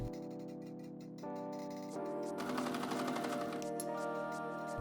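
A sewing machine stitches a sleeve into a shirt armhole with a quiet, steady mechanical rattle under soft background music.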